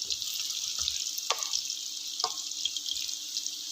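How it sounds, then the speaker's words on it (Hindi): Sliced onions frying in oil for karaly pyaz, a steady soft hiss of sizzling with a few faint clicks and drips, close and continuous with no talking. "तो अब हम 1-2 मिनट मज़ीद इनको फ्राई करेंगे।"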